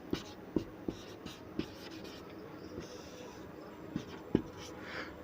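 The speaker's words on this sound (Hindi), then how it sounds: "यहाँ पे हम लिख दे रहे हैं रासायनिक गुण" Chalk writing on a board during a chemistry lesson, scattered sharp taps and short scratches at an irregular pace, faint against quiet room tone.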